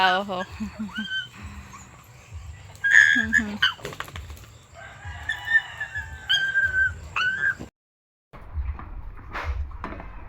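Dogs yip, whimper and whine excitedly in short bursts nearby, while people talk over the commotion.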